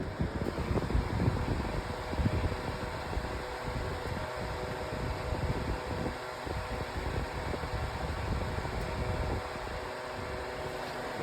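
An Electric Air 10-inch table fan runs on high speed, a steady broadband whirring rush with a low hum that holds evenly throughout, close and moderately loud with no talking.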